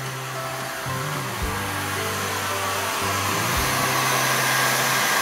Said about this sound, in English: Shoe drying.